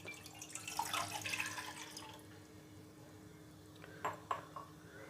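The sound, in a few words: water poured into a bowl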